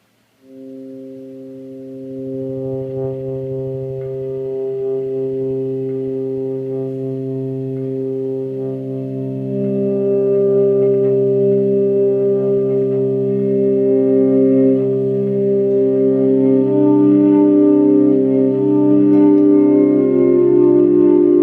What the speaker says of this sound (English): here I'll play that exact same thing, but give you a volume swell in